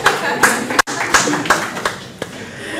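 A small audience gives a short, scattered round of clapping at a youth health talk, with a handful of distinct hand claps spaced out over a few seconds among murmuring voices.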